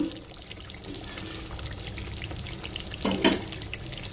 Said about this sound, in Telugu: దీన్ని కూడా మిక్స్ చేసేసుకుని స్టవ్ ఆఫ్ చేసేసుకున్నాం